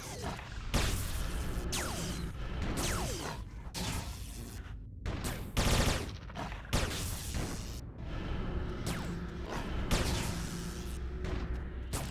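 Full-auto gunfire in the online video game Anarchy Online, with repeated loud, sharp bursts of shots coming in quick succession over a constant game backdrop, with no talking.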